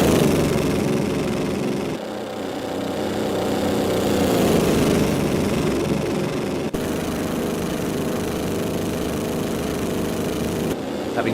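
Several 1934 racing car engines roar around Brooklands in Assetto Corsa, a loud, continuous droning blend of cars close by, with pitch swells as individual cars pass and a brief gear-change dip near the start.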